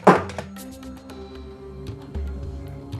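Plastic toy action figures from a Marvel Mech Strike Monster Hunters set are smacked together, producing one sharp thunk at the start and a few softer knocks after it.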